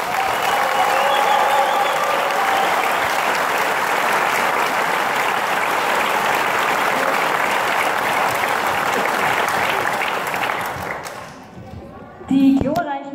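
Concert audience of a community wind band gives sustained, dense applause that fills the hall for about ten seconds, then fades out and a voice begins speaking near the end.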